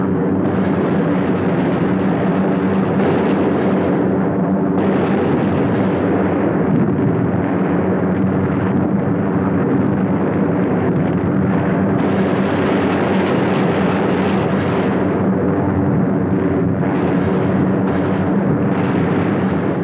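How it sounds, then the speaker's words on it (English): Bombs from a WWII task force exploding over the target at Danzig: a continuous, dense, loud rumble of blasts and heavy engine drone that runs the whole stretch with no pauses. "The third task force comes over its target at Danzig. Bombs away."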